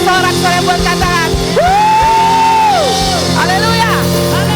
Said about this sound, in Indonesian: Berikan tepuk tangan dan sorak-sorai buat katakan